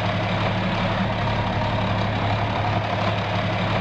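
A John Deere tractor engine idles in Farming Simulator 19 with a steady, heavy low rumble and a faint knocking texture. It runs evenly and close throughout, with no voices.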